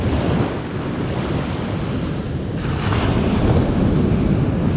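Surf breaking and washing steadily onto an open beach on the Holderness coast during a sea-angling competition, a continuous broadband rush of waves with wind buffeting the microphone throughout, no voices.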